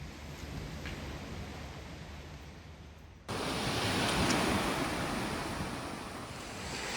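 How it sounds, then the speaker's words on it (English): Ocean waves washing onto a beach on the Perhentian Islands, a continuous broad surf rush that swells louder partway through, with some wind noise and no voices. "we're just taking a stroll on the beach"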